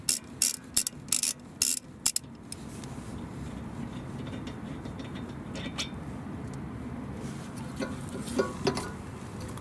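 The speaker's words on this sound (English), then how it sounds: "we will remove this banjo bolt. We'll use again 12mm socket. Unscrew counterclockwise." A ratchet with a 12mm socket clicks in several quick bursts while unscrewing the banjo bolt on a rear brake caliper of a 2002-2006 Acura RSX, then steady workshop background noise follows.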